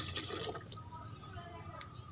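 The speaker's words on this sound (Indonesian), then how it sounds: "Nah, kita kasih airnya sedikit." A small amount of water is poured out to make more jakaba, a farm fermentation starter, giving a brief near splash and trickle with a faint watery hiss and no talk over it.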